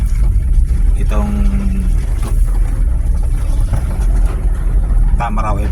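A Toyota Tamaraw FX engine rumbles steadily from inside the cabin while driving at night in heavy rain in Calamba, with a few short squeaks and a brief voice in the background.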